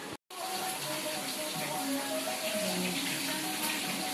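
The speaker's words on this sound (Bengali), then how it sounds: "এখন এগুলো একটু ধুয়ে নিই" Things are washed under a running tap, a steady close stream of water that starts after a brief silent gap and then flows evenly and moderately loud with no talking.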